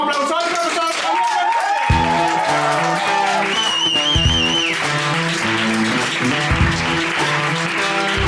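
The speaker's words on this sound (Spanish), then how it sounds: "Recibamos con un fortísimo aplauso al profesor Javier." A studio audience breaks into loud applause to welcome a guest onto a stage, with music playing over the steady clapping throughout.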